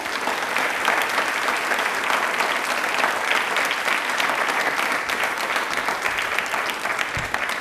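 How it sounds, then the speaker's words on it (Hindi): Loud, sustained audience applause fills a studio programme on Indian railways and bullet-train travel, dense and steady from start to finish with no voices over it. "प्लीज़ एक बार तालियां जोरदार हो जाएं।"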